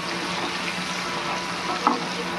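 Capsicum and carrot cook in a covered pan for chicken fried rice, producing a low, steady sizzle with one brief clink near the end and no talking.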